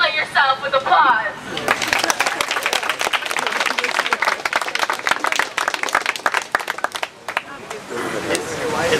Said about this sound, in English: So congratulate yourself with applause.